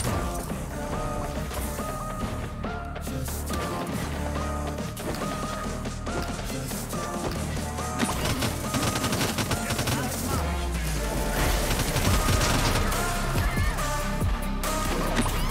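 Gunfire from a shooter video game, dense and continuous, with repeated sharp shots and crashes layered over game music and effects for the whole stretch, steady and loud throughout.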